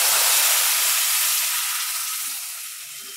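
Prepared tamarind extract hits a hot cooking pan holding oil and turmeric, setting off a loud, broad sizzling hiss up close that slowly fades, with no talking.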